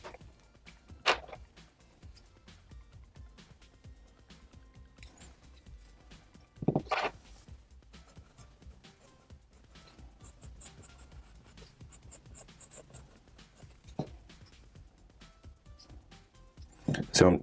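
Pencil scratching on paper while sketching a Star Wars character, soft intermittent strokes and rubbing with a few louder scrapes, close and quiet, interspersed with a person talking.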